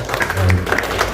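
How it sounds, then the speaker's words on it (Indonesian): A press conference audience for a horror film trailer and poster launch claps briefly in a short, uneven burst of applause mixed with talking voices, fairly close. "Tepuk tangan dong, boleh."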